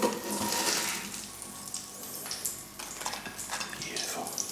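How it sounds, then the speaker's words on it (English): Oil sizzles steadily in a pan with a broad crackling hiss as fish cakes fry, joined by a few light clinks and shuffles of cookware close by. "These ones still sizzling."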